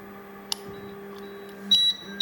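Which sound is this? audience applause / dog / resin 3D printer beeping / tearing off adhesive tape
resin 3D printer beeping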